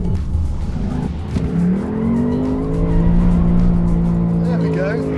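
A Ford Mustang Dark Horse accelerates with a rising engine note and squealing tires, loud and close, as a voice talks over the driving.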